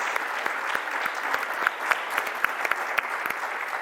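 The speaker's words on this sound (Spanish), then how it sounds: "Y un aplauso para Lisette, la verdad." A conference audience applauds a woman named Lisette: steady, dense clapping from a crowd fills the whole stretch, fairly far off, with a few sharper claps standing out and no talk over it.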